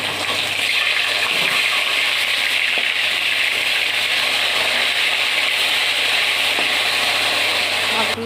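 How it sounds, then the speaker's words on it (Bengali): Catla fish pieces fry in hot mustard oil, a steady, close sizzle and crackle that runs unbroken throughout with no pauses. "দিয়ে মাছগুলোকে লাল লাল করে ভেজে নেব।"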